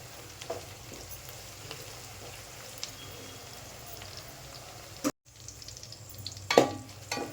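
Onions frying in oil for a mutton curry with broad beans give a continuous soft sizzle, broken by stirring scrapes and a brief drop-out, ending with a louder clatter of the spatula near the pan.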